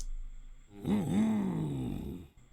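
A voice imitates a car engine, processed with Decapitator saturation, a low growling drone that rises and wavers for under two seconds, heard alone.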